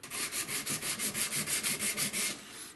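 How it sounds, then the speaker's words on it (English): Sandpaper wrapped around a file rubs back and forth over a wooden musketoon stock, making about a dozen steady, evenly spaced scraping strokes close up and alone, which stop near the end. "I'm finishing it with sandpaper, backed up by a file."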